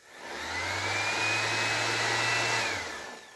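Worn Ryobi power tool motor with brushes running steadily, a loud whining hum with a low drone that spins up, holds for about three seconds and winds down, heard alone.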